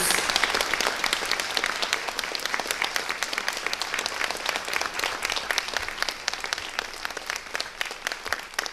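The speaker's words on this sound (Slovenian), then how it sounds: "prosim za en spodbujen aplavz" Sustained applause from an audience at the Dobova se predstavi 2024 community event, a dense, even wash of many hands clapping that carries on steadily without a break.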